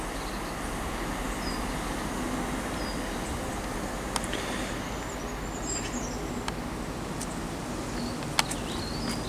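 A Class 165 diesel train, unit 165104, passes on a Great Western main line service, a steady broad rumble with faint clicks and rail noise throughout, fairly close and unbroken.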